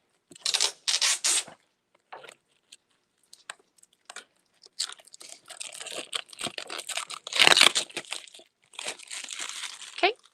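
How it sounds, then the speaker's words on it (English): Plastic covering is peeled off a craft canvas, giving bursts of crinkling and rubbing plastic, close and fairly loud, separated by quiet gaps, with a heavier crackly stretch late on. "get a way to like pull off this plastic covering"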